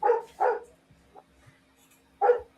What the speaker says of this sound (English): I'm trying to like block the sounds of my dogs out, and it's not working at all.